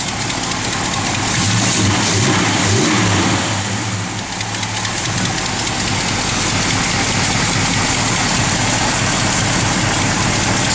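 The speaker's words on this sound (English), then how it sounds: "Sounds like it's got a little bit of exhaust leak on this side." A 1969 Plymouth GTX engine idles close by with a constant rough, hissing rumble from an exhaust leak, steady and loud throughout.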